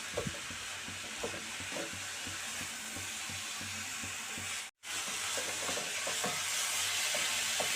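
A coconut and crushed cardamom mixture is stirred in a pan, with a soft continuous sizzle and repeated scraping strokes of the spoon, briefly cut off once before resuming.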